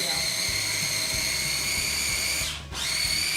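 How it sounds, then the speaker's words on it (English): A food processor whirs steadily at close range blending hummus, a high mechanical whine holding for a few seconds with a brief dip near the end. "I love using this food processor."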